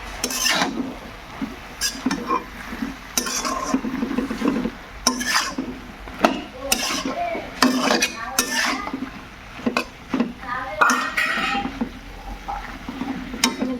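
A spoon stirs a mixed vegetable curry in a metal pot, with repeated scraping and clinking strokes at an irregular rhythm over a soft background sizzle, close and moderately loud, no talking.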